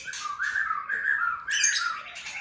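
White-rumped shama (murai batu) songbirds, one of seventeen kept together in a room, singing in bright, varied whistled phrases with short pauses between, close and clear, no voices.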